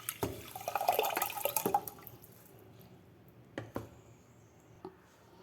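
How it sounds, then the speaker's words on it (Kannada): Water splashes and pours as soaked kodo millet is tipped into a pressure cooker, a brief burst of sloshing followed by a few soft drips and knocks in a quiet kitchen. "ಈಗ ಈ ಅಕ್ಕಿನ ಒಂದು ಪ್ರೆಷರ್ ಕುಕ್ಕರ್ಗೆ ಟ್ರಾನ್ಸ್ಫರ್ ಮಾಡ್ಕೊಳ್ತೀನಿ ನೀರಿನ ಜೊತೆ"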